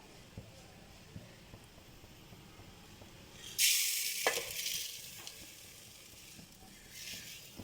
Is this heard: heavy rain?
no